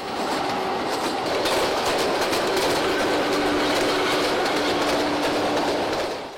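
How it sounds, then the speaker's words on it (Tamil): A train passes close by with a loud, continuous rumble and steady rattling clatter that holds throughout, then eases slightly at the very end. "இந்த ட்ரெயின் சத்தம் கேட்கும் போதெல்லாம்"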